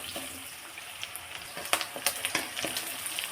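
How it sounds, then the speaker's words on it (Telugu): Onions frying in a pan for chicken roast, a soft steady sizzle broken by several quick crackling pops and light stirring clicks, fairly quiet and close, with no voices. "ఆనియన్స్ కొంచెం కలర్ వచ్చేదాకా వేయించుకుందాము."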